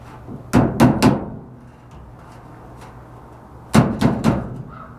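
Two quick bursts of three sharp hammer strikes each, fairly close, separated by a quiet pause with low background hum.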